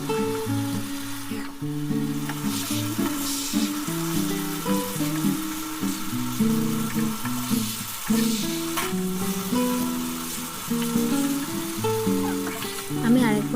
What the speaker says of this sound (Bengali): ফ্লেমটা হাই করে আমি এটাকে ভালো করে কষিয়ে নেব